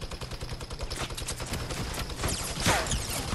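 Rapid bursts of automatic gunfire from Fortnite play in quick succession, a dense, sharp rattle of shots that continues throughout with a heavier impact near the end.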